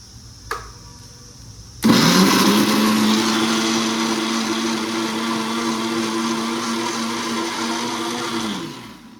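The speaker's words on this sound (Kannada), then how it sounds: "ಅದೇ ನೀರು ಹಾಕದೆ ರುಬ್ಕೊಳ್ಳಿ. ಈಗ ಮಿಕ್ಸಿ ಜಾರ್" After a small click, a kitchen mixer grinder switches on and grinds tomato and chopped coriander without water, a loud, steady whirring motor that runs close and continuous for about seven seconds before spinning down.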